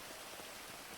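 Steady rain in a video game, a dense, even hiss of falling drops with no other sounds over it.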